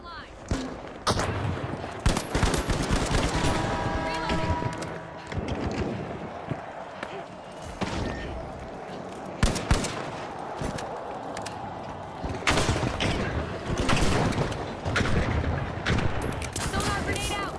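Rapid, dense bursts of gunfire in a team shooter video game, with overlapping shots and volleys crackling almost continuously and loudly throughout, while voices talk underneath.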